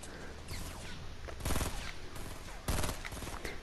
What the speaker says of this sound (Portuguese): Eu que tô atirando.